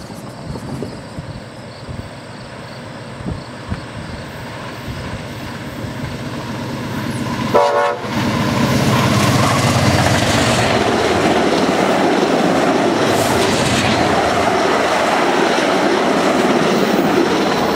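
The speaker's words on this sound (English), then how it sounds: "Locomotives 910 and Via 900." VIA Rail passenger train led by locomotives 910 and 900 passes close by, rising from a distant rumble to a loud, sustained roar of wheels and cars that continues to the end.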